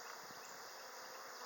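Honey bees buzz steadily at an open hive during an inspection, a dense, continuous hum of many insects close by with no voices.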